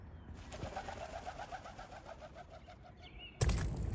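A pigeon coos repeatedly in a steady rhythmic series among fruit trees in bloom in the New Zealand countryside, moderately close over a low outdoor background, ending in a loud burst of noise.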